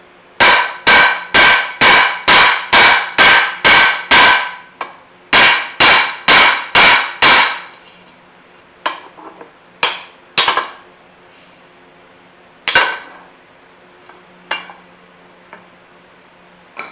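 A hammer pounds on the U-joint of a 1981 Chevy C10 shortbed squarebody truck: a loud, steady run of about a dozen ringing metal blows, then a few scattered, lighter knocks and clanks.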